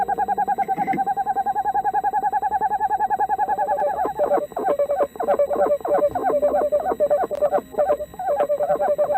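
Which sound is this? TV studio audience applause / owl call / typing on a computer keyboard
owl call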